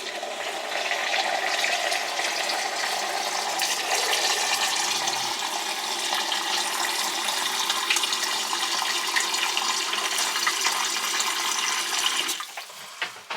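Water pouring steadily into a container of lime mixture for water glassing eggs, a continuous rushing and splashing fill lasting about twelve seconds before tapering off with a few clunks.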